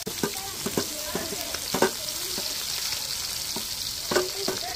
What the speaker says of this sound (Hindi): अब भाभी छांक रही है